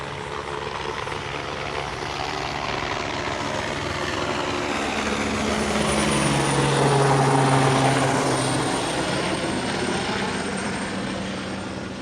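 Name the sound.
police helicopter circling overhead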